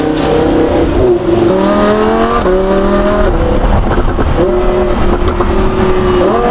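A Lamborghini fitted with a Ryft exhaust revs loudly up close, its engine note climbing and dropping in several stepped pulls with a deep, raspy exhaust roar throughout.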